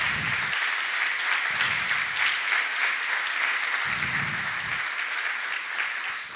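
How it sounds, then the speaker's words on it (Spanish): Sustained applause from a church congregation during a Sunday sermon, dense clapping filling the room steadily for several seconds with faint low bursts of voices or movement underneath. "Dale un aplauso al Señor"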